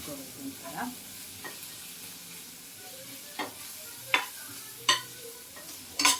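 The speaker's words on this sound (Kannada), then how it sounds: "1 ನಿಮಿಷಗಳ ಕಾಲ ಎಣ್ಣೆಯಲ್ಲಿ ಫ್ರೈ ಮಾಡ್ಕೋಬೇಕು" Onions frying in oil with turmeric, stirred in a pan, giving a low steady sizzle broken by scattered scraping clicks of the spatula that grow sharper toward the end; no talking.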